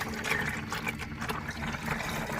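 Gear oil drains from a plug on a 1956 John Deere 60 tractor in a quiet, steady liquid trickle and splatter into a container, no voices.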